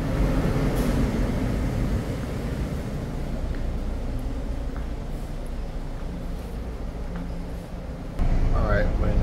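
Steady interior rumble and rolling noise of a moving Los Angeles Metro Purple Line train, continuous throughout, with a voice briefly at the end.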